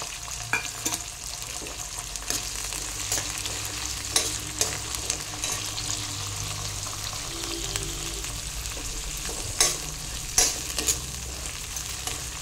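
Onions and green chillies fry together in a pan, a steady sizzle close by with sharp clicks and scrapes of stirring scattered throughout, and no talking.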